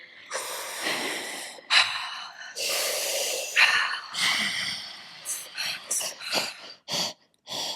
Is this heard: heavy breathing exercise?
yes